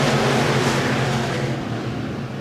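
Modified race cars roar off at the green flag on a motor speedway, a dense, loud wall of engine noise surging together, then thinning slightly as the pack moves off.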